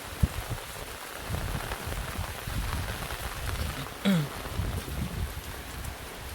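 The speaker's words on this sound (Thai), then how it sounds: "ฝน" Steady rain patters on a surface throughout, with no voices, and one brief louder splash partway through.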